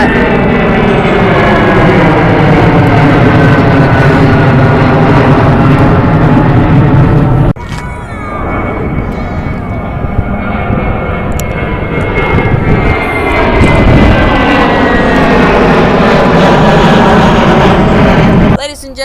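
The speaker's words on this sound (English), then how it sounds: "Ladies and gentlemen, coming from somewhere in the world, Land Cargo 777 freighter." A LATAM Cargo Boeing 777 freighter passes with a loud, sustained jet engine roar that swells and shifts in tone as it goes by, continuous and near throughout.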